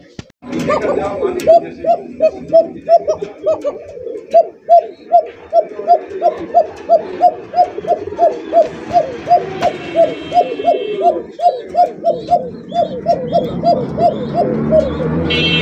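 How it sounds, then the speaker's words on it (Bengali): Jacobin pigeons in a Gazipur loft coo in a steady stream of repeated soft notes, close and fairly loud, with someone talking over them throughout. "জাকোবিন কবুতর দেখছেন"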